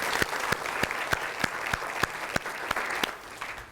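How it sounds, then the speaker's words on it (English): Audience applause for new faculty members at a college address: a steady wash of clapping from a sizable crowd, with sharp, evenly spaced louder claps standing out throughout. "why don't we give them an extra round of applause"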